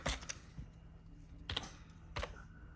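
A few quiet keystrokes on a computer keyboard sound as a promo code is entered on an online shop's checkout page; the taps come as sparse, isolated clicks against a near-silent room.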